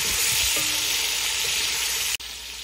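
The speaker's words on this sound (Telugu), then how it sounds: "సాల్ట్, కొంచెం టర్మరిక్ పౌడర్ వేసుకొని ఒకసారి బాగా మిక్స్ చేసుకోవాలి." Bitter gourd pieces fry with salt and turmeric in a pan, giving a steady, loud sizzle with faint scraping as they are mixed, then a brief dropout near the end.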